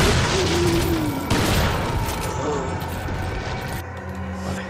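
Gunfire in the game Resident Evil 4 comes as a burst of sharp, booming shots in the opening seconds, then trails off into fainter game ambience and mechanical clatter.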